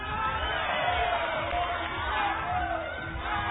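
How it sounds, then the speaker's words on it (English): A crowd of Wuxi fans cheers at a taekwondo team championship semi-final between Korea and China, a steady broad roar that continues throughout with whistles rising over it, while a commentator talks above it. "Gives the Wuxi faithful something to cheer about."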